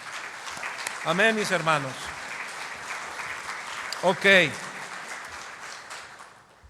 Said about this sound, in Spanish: Dele una ofrenda de palmas a nuestro Señor.